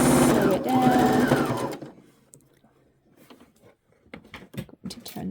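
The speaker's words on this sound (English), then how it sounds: "So turn the work, sew it down all the way." Sewing machine stitching a fabric tea bag holder, a fast loud whirring chatter with a rising and falling hum that stops after under two seconds, followed by quiet handling noises and soft speech.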